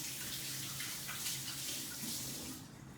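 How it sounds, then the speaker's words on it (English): Hands being washed under a running kitchen tap: a steady, fairly close hiss of flowing water with soft splashing as the hands move through the stream, fading slightly at the very end. "wash my hands"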